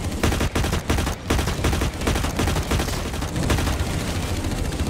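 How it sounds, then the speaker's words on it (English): Rapid gunfire in the FPS game Blacklight Retribution, dense loud bursts of automatic shots with brief gaps, continuous heavy fire close by throughout, no voices. "I'm massively under fire"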